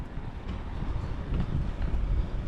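Gusty wind buffets the microphone in a low, rumbling rush that rises and falls, steady and fairly close, with no talking.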